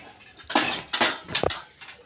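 Plates, pots and metal dishes clattering in a home kitchen, three or four sharp, close knocks and scrapes spaced about half a second apart, loud against a quiet background.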